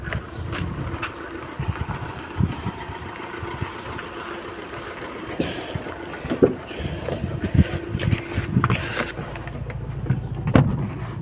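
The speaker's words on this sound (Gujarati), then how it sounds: "જરા જરા અવાજ આવે એ તો ડીઝલનું ઇન્જિન છે એટલે અવાજ તો આવે" A Hyundai i20 diesel engine runs steadily with a low rumbling drone and a few louder knocks, heard close with no talk over it.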